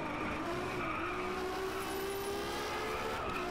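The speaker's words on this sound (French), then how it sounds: "le moteur vire à l'aigu" Ferrari FXX K engine in DriveClub VR, revving high with a steady rising whine and some tyre squeal, sustained and loud throughout without any talk.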